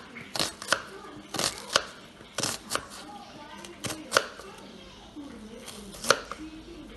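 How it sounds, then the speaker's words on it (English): A knife chops vegetables on a cutting board while Mexican salsa rice is prepared at home, giving sharp, irregular knocks spaced about half a second to a second apart, close and fairly clear. "Right now I'm going to start chopping the vegetables and getting them ready."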